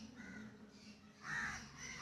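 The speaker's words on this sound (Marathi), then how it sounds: "तर कावळं बघा आता किती वराडते ती" Crows cawing from tall trees around a garden, a few harsh repeated calls with the loudest burst near the end, moderately close over a quiet background.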